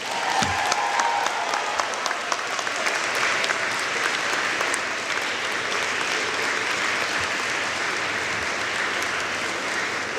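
Graduating students at a university convocation ceremony applaud their families, friends, faculty and staff, a broad sustained roar of clapping from a large hall crowd that stays even throughout.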